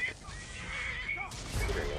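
A horse in the Skyrim video game whinnies loudly, a rising-and-falling neigh lasting about a second, mixed with game sounds and a voice talking over it.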